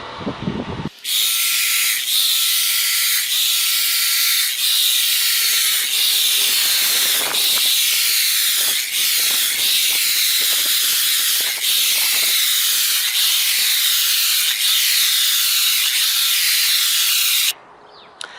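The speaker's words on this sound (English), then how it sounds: "Now that I have used the hedge trimmer to smooth out the majority of the side of the hedges" A hedge trimmer buzzes steadily for about sixteen seconds as it smooths the sides of garden hedges, loud and close, with brief dips in the blade noise and no talking.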